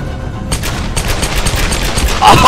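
Rapid video-game gunfire from Tomb Raider crackles in a loud close burst of repeated shots, rising into a heavier blast near the end.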